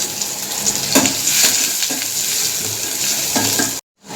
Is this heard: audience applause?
no